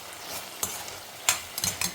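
Tomatoes sautéing in a pan, a soft steady sizzle broken by several quick stirring scrapes, close up, with no one speaking.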